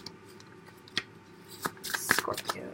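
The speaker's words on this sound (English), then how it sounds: "I'm going to draw some goddess guidance cards" Goddess guidance cards shuffled and drawn from a deck, a few soft riffling bursts and slides building toward the end, close and fairly quiet.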